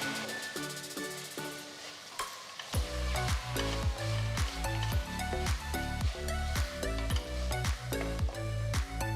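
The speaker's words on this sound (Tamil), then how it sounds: "அடுத்து 4 தக்காளி நறுக்குனது சேர்த்து வதக்குங்க." Four chopped tomatoes hit a hot pan for Tamil tomato rice or kurma, a sizzle that swells after a quieter opening few seconds and then continues steadily under rhythmic background music.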